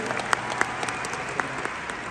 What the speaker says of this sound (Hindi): एक बार इस बात के लिए भी तालियां बनती हैं,